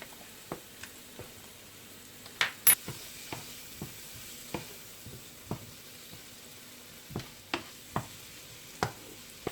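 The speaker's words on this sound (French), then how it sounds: "J'aime bien faire revenir avec 2 cuillères parce que ça tourne bien, ça tourne mieux, toujours" A four-spice mixture sautéing in a pan, turned with two spoons: a quiet, continuous sizzle broken by light, irregular clicks and scrapes of the spoons, heard close with no talking.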